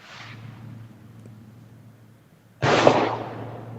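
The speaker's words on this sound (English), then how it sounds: "Now, that was a gunshot." A single gunshot rings out at night, picked up by a doorbell camera. After a quiet, low hum, one sharp, loud burst is followed by a short decaying tail.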